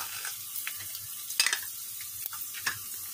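A teaspoon of tomato paste goes into onions frying lightly in a pan, a soft steady sizzle broken by a few sharp stirring clicks and scrapes, close by and without speech.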